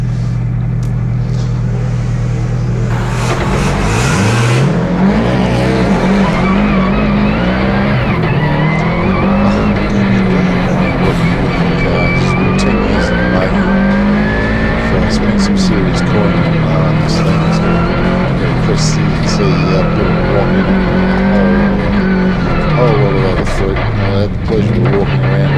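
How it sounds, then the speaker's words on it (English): A Subaru WRX race car climbs a hillclimb course, its engine loud and close, revs rising and falling through gear changes with tyre squeal in a continuous roar; a commentator talks over it. "Another WRX going up the hill with Doug Johnson."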